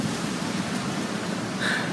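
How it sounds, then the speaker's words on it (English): Wind blowing hard in a park, a loud, steady rush buffeting the microphone throughout with no clear pauses. "But the problem is, it's really windy out here."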